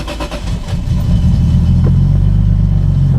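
A manual car with a freshly charged battery starts up: a brief cranking clatter catches into a loud, steady engine rumble idling close by.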